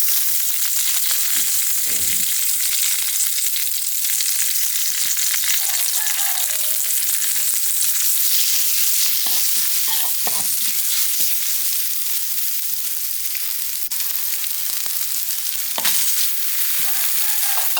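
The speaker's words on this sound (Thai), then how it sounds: "แล้วก็คั่วพริกแกงเอาเลยนะครับ" Thai curry paste stir-fries in a hot pan, a steady loud sizzle and crackle with occasional scrapes and taps of a utensil stirring, no talking.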